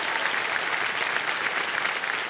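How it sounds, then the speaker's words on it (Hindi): A studio audience at a televised quiz show applauds steadily, a dense continuous wash of many hands clapping, moderately loud and even throughout with no pauses. "और एक बार तालियां बज जाए उनके लिए।"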